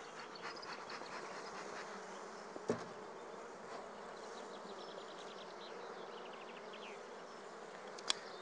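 Honeybees buzz around an opened hive during queen rearing, a soft continuous hum filling the air close by, broken by two brief sharp knocks, with no voices.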